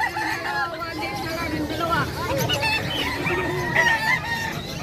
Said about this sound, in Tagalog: Yo, manok panabong.